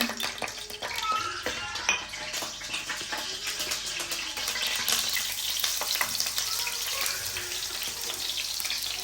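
Chicken pieces fry in a pan at home with a dense, continuous close-up sizzle and crackle that runs steadily throughout without pause, with no talking.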